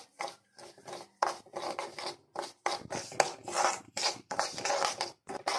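Semolina roasting in ghee in a pan, stirred with a spoon in repeated raspy scraping strokes, close and fairly quiet, with no talking.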